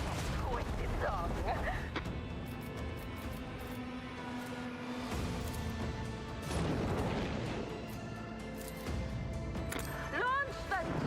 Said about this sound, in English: Let the macro cannons sing their twisted song!